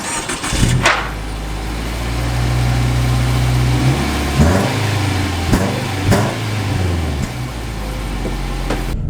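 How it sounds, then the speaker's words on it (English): A 2019 Subaru Legacy Sport sedan sets off and drives, its engine humming steadily from inside with gear-change shifts in pitch and a few bumps and clicks, no talk. "we are setting off in the 2019 Subaru Legacy, and so far it drives super smooth"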